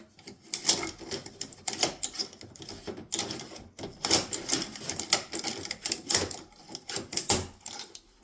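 A NAPA Gold oil filter for a garden tractor is cut open with a tool, giving loud, close, rapid, uneven clattering and grinding bursts with short pauses in between.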